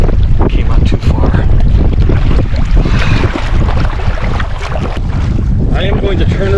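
Strong wind buffets the microphone on a small boat out on Willow Lake in Johnstown, Nebraska, a loud, continuous roar with gusty rumbles and faint water splashes underneath.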